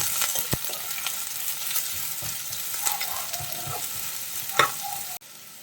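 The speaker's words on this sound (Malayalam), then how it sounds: "3 സവാള അരിഞ്ഞത് ചേർത്ത് കൊടുക്കും. ഇനി നമുക്കിതൊന്ന് വഴറ്റിയെടുക്കാം." Three chopped onions sautéing in a pan for rajma curry: an even, close sizzle with occasional scrapes and clicks of stirring, ending abruptly.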